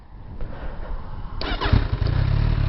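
A Kawasaki Z1000R motorcycle cranks briefly and then fires up, its engine catching with a sudden loud roar and settling into a rumbling idle close by.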